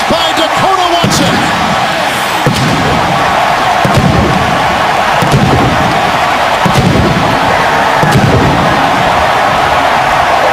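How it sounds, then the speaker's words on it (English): A stadium cannon fires after a touchdown in a 2012 NFL game, booming in a few heavy thumps over loud, continuous crowd roar and a commentator's voice. "Oh, they get that cannon going"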